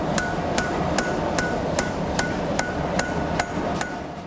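Hammer forging a massive steel blade at about 1,200°C: ten evenly spaced, ringing metallic blows struck at a steady rhythm, loud and close over a constant roar of background noise.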